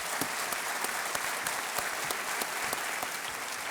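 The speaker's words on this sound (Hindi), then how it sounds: "तालियों के साथ इनका अभिनंदन।" A studio audience on the quiz show Kaun Banega Crorepati applauds in a steady, dense burst with a few sharper individual claps standing out, filling the moment at moderate loudness.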